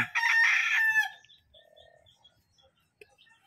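A Rhode Island rooster on a farm lets out one loud, close crow lasting about a second, followed by faint scattered clucks and small farmyard noises against near silence.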